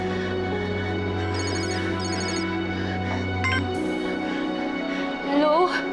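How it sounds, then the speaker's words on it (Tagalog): A telephone rings with short electronic trills in a drama scene, over a low steady hum, followed by a voice at the end. "Kung ako sa'yo, sasagutin ko yung telepono ko."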